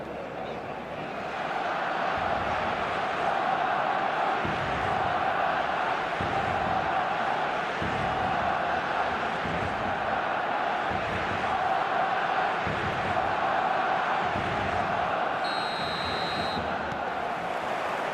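A stadium crowd in the eFootball video game roars continuously, a dense and steady wall of chanting and cheering that holds at full volume throughout.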